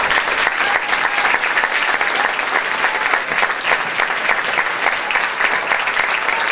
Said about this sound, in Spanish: Así que yo le quiero pedir un fuerte aplauso a Franco Moyo.